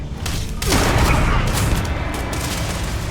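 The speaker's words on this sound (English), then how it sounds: "Let's try solar flare." Solar flare power unleashed in the video game Starfield, a loud blast that erupts into a sustained roaring, crackling barrage, like heavy gunfire, holding steady for several seconds.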